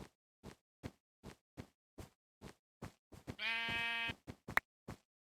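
Minecraft sheep bleating in a snowy biome: a single drawn-out, wavering bleat rises clearly over a steady series of evenly spaced soft thumping footsteps, with a couple of sharp clicks just after.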